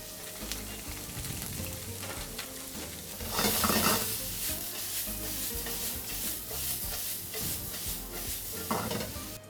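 A medley of vegetables including red cabbage sizzles in a hot pan while being stirred, a loud, close, continuous frying hiss with scraping bursts partway through.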